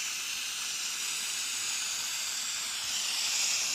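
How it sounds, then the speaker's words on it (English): A steam cleaner blows a steady, close, unbroken hiss of steam onto dirt on a car, holding level throughout with no talk over it. "So what I'm going to do is I'm going to go through with the steam."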